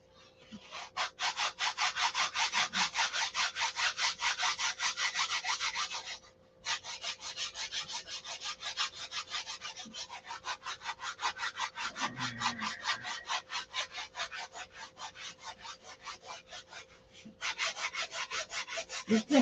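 Wood sanded by hand with 80 and 320 grit sandpaper, in long rhythmic back-and-forth rasping strokes, close and fairly loud, with a brief pause partway and a few faint knocks.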